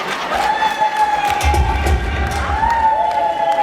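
Wedding guests clap and ululate together, a dense, close crowd of cheering with high trilling voices and scattered thumps, continuous throughout.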